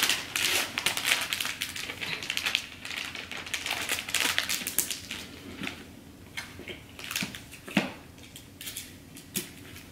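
Wrapping paper for a holiday present being crinkled, folded and handled, with brisk rustles, sharp crackles and light taps coming close and fairly quiet.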